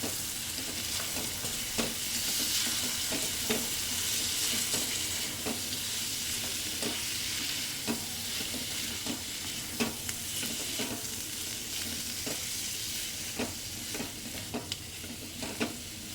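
Potatoes for a dry potato sabzi fry in a pan with red chilli, coriander-cumin powder and coriander while a spoon stirs them, a steady close sizzle broken by regular scraping strokes.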